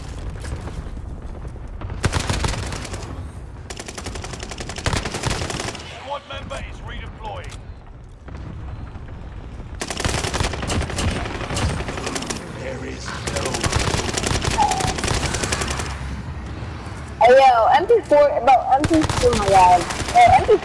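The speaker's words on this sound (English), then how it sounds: "That was machine gun." Machine gun fire in Call of Duty: Modern Warfare, dense bursts of automatic shots in several loud stretches mixed with game effects, with players talking over the action.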